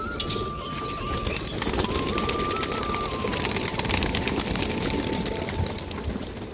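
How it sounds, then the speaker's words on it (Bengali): Rampuri Lalkath pigeons coo and flutter after being released, the soft bird calls rising over a steady outdoor background with a faint tonal hum, no voices. "আমি এই পায়রাগুলোকে ছেড়ে দিই।"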